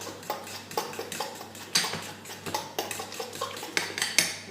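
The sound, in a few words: stirring a mixture in a bowl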